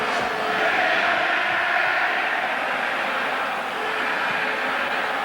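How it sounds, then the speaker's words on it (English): A football crowd at a Denmark versus England friendly international still roaring after the first goal, a broad, distant wash of cheering that holds steady throughout. "Crowd still greeting the first goal of these centenary celebrations."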